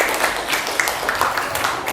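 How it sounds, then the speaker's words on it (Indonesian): A classroom full of students claps, a steady patter of applause with a few voices mixed in. "tepuk tangan buat kelompok 3."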